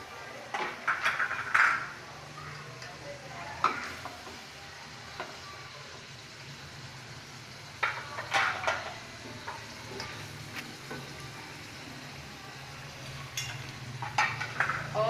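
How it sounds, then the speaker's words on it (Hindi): Chicken cooking with onion, cumin and freshly added tomatoes sizzles quietly in a pan, with a low steady hiss broken by scattered clinks and scrapes of a spoon against the metal, and no voices. "चिकन को मैंने थोड़ा सा पकाया है प्याज और ज़ीरे के साथ। अब मैं इसमें टमाटर डाल रही हूँ।"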